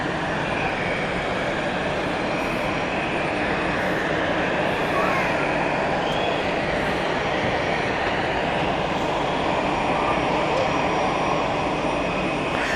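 Swiss heavy jet airliners inbound at Zurich Airport, heard from an observation deck as a continuous loud jet engine roar with a faint rising whine, steady throughout.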